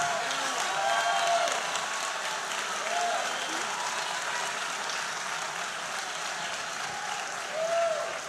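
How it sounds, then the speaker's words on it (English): Warm, sustained audience applause at a live political conversation event, a thick even wash of clapping with scattered cheers and whoops rising over it. "A round of applause."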